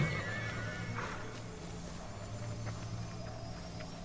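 A horse in Immortals Fenyx Rising neighs once, a clear whinny near the start over a steady low game-ambience hum, followed by quieter shuffling hoof sounds.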